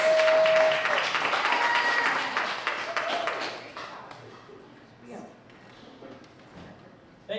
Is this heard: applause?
yes